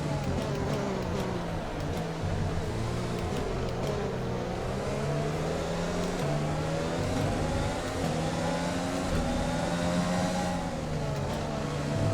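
A Formula 1 car engine in the video game F1 2020, racing at Zandvoort with a worn internal combustion engine, revs up and down in smooth rising and falling sweeps, loud and close for the whole stretch.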